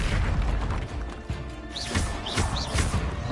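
Explosive Confringo spell blasts in Hogwarts Legacy, several booming bursts with crackling pops arriving in quick succession over busy combat noise, loud and close.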